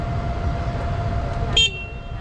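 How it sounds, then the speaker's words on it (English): A tuk-tuk horn gives one short, bright honk on a Lisbon street, standing out over a low steady engine and traffic rumble. "Sorry for honking."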